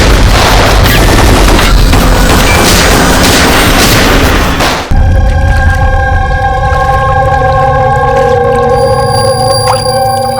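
Dense burst of gunfire in a crime drama scene, loud and continuous for about five seconds, then cut off abruptly into a sustained tonal hum.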